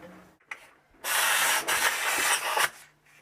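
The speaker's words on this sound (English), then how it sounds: "Air chisel." Air chisel working on a Chevrolet Nova floor pan, a loud continuous rasping hiss for about two seconds after a brief click, close and alone.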